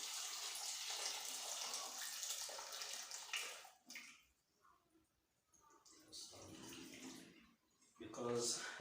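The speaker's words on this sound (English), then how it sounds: "I'll add some small amount of water." Water poured into a cooking pot holding chicken pieces before it goes on a gas burner, a steady splashing rush at first that breaks off, followed by quieter trickles and a brief final splash, with a person talking over parts of it.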